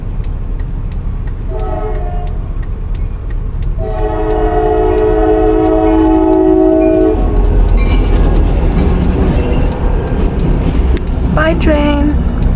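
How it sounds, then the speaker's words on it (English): A train rolls past nearby with a steady rumble, slowing down and then picking up speed again, while its horn sounds in long, loud, sustained blasts through the middle of the passage. "And that's the train I was talking about."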